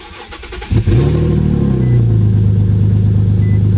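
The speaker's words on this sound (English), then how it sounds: "I'm finna start it up" An Infiniti G37 engine cranks briefly and fires up, then settles into a loud, steady, throaty idle close by, with no talking.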